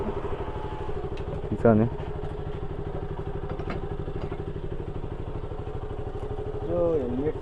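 A KTM Duke 200 motorcycle engine idles with an even, low, pulsing throb close by. A voice speaks briefly over it and a couple of faint clunks are heard.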